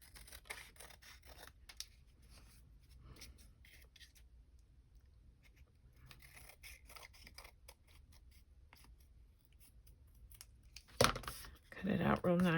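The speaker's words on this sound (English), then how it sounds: "Then you can go around with your scissors." Scissors snip around paper for a memo board in quick repeated crisp cuts close to the mic, the snipping coming in clusters with short pauses, followed at the end by a person speaking.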